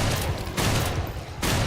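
A shotgun fires in a video game: loud, dense blasts of gunfire fill the whole stretch in roughly three heavy bursts, close and with no talk over them.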